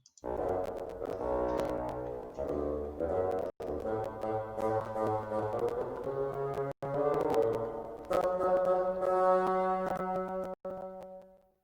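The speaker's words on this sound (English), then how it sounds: "So that's the sound of a bassoon." A bassoon plays a slow, low, reedy melody of sustained notes from Peter and the Wolf, with short breaks between phrases, clear and alone.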